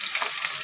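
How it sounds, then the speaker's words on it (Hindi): Green chili, onion and garlic sizzle as they hit hot oil for a tempering, with a brief, steady, close frying hiss. "हरी मिर्च, प्याज और लहसुन का तड़का"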